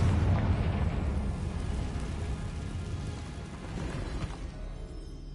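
In the Hogwarts Legacy video game, a Confringo fire spell bursts with a heavy rumbling blast that rolls into a dense, crackling roar and slowly fades.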